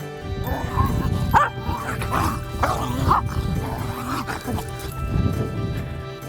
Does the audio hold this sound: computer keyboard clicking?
no